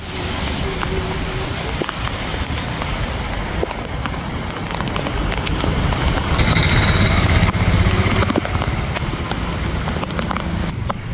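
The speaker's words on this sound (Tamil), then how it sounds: "செங்கல்பட்டு மாவட்டம் OMR சாலையில் மழை வெளுத்து வாங்கி வருவதால்" Heavy rain pours onto a waterlogged stretch of the OMR road in Chengalpattu district, a steady loud wash of rainfall with vehicles swishing past through standing water, one passing more noticeably near the middle.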